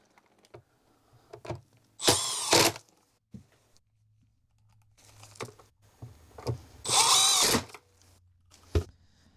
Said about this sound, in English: Now we're going to go ahead and insert these screws before securing the pedals.